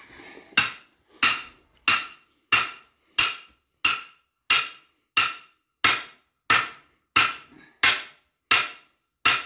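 A Harbor Freight hammer strikes metal in a steady series of about fourteen loud, sharp blows spaced evenly apart, each ringing briefly before the next.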